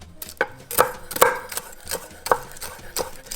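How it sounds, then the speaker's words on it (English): Knife chopping air-fried bacon on a cutting board, a steady series of sharp, close thuds roughly every half second, loud and clear with no voices. "Chop all this up now."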